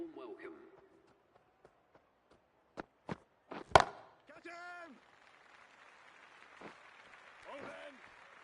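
Crowd applause in a cricket video game rises after a few sharp hits and a loud crack, carrying on as a steady wash of clapping while a commentator talks over it.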